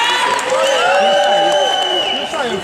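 Crowd cheering and applauding the winning girls of a 75-metre children's race at a street running event, a steady, loud wash of claps and excited voices throughout, with high cheering over it.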